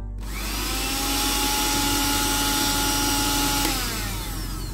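A Maspion blender motor starts up and runs with a steady, high-pitched whine, then dips slightly near the end while still running.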